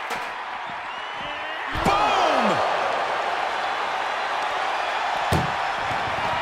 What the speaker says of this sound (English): At least slam one door shut.